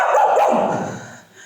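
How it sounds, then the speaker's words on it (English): A dog barking, close and fairly loud, in a short burst of a few yips and barks that fade toward the end, with no talk. "bark like a dog"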